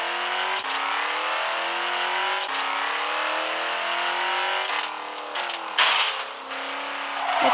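Race car engine in the Ribel Racing video game: a loud, continuous engine note that rises in pitch through several upshifts, with a brief rough burst of noise near the end and no talking.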